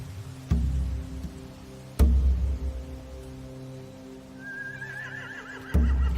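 Horses in The Walking Dead video game give a high wavering whinny over a low droning backdrop, with heavy thuds landing at intervals and no voices.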